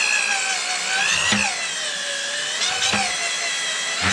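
Rusty valve from a Stickney 7HP stationary hit-and-miss engine being lapped on a spinning tool, a continuous whirring whine with rhythmic scraping pulses as the rotation reverses, close and fairly loud.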